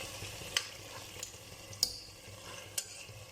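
Oily masala sizzling and frying in a pot for chicken biryani, close and steady, with a few sharp scrape-like ticks of a spoon stirring at intervals.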